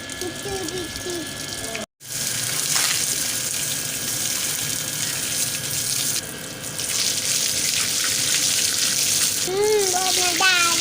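Running tap water gushing steadily as a child plays with it, loud and continuous with a brief cut early on, splashes and a young voice chattering and squealing over the flow.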